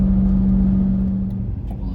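Audi S4 V8 car engine holding a loud, steady drone near a constant pitch, running continuously without a clear rise in revs, with voices faintly under it.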